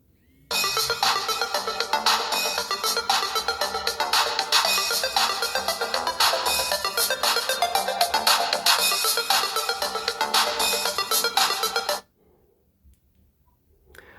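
Incoming-call ringtone of an Honor X9a phone plays as a loud, steady repeating melody for about eleven seconds, then stops abruptly into near silence.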